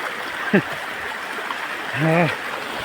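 Floodwater pours along in a swollen stream during very heavy rain. It makes a constant rushing hiss throughout, broken by a couple of brief tonal chirps.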